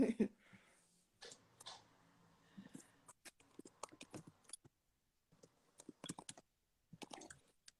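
Quiet, close keystrokes on a computer keyboard come in irregular bursts of clicks, with soft talking in the room early on and long near-silent gaps between typing runs.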